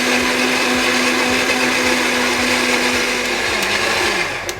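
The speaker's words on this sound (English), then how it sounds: "Now we're going to blend this. Blend this now really well." A blender whirs loud and steady while blending a blueberry banana almond milk smoothie with chia seeds. The motor holds a constant drone that eases off slightly at the end, with no talking.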